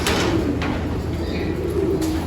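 Pigeons in a loft coo softly and steadily over a continuous background hum, with a few brief rustles near the start and end.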